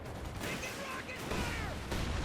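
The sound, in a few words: anti-tank gun and tank gunfire in Company of Heroes 2 video game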